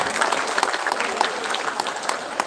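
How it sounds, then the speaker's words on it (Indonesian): Lively audience applause for the speakers at a youth talk show, dense overlapping claps with sharp individual hand strikes standing out, fairly close and loud. "Kita beri tepuk tangan yang meriah untuk narasumber kita."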